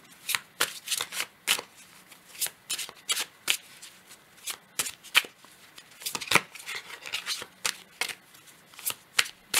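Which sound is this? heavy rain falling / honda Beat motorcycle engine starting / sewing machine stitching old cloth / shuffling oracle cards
shuffling oracle cards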